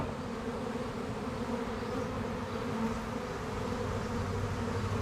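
A mass of honeybees dumped out of a swarm box gives off a dense, steady buzzing hum, close and continuous, with no talking over it.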